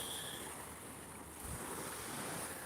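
Sea waves at Tarrafal wash in a steady, distant roar of surf mixed with wind rumble against the microphone, with a soft swell rising near the middle and no voices.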